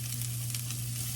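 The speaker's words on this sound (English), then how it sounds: "Bitty pieces of sausage. Put them in. Sizzle." Small pieces of sausage sizzle and fry in a hot pan, a steady close crackle with a low stove hum beneath and no talking.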